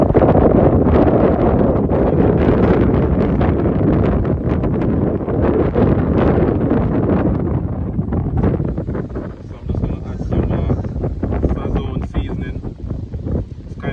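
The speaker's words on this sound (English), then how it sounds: "Windy" Heavy wind buffets the microphone outdoors while grilling fish, with a loud low rumble, gusting strongly at first and easing slightly later, with crackling handling noise.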